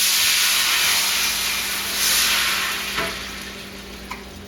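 A hot pan hissing and sizzling as it is deglazed for a demi-glace, a steady broad steam hiss that swells briefly, with a couple of light utensil knocks near the end.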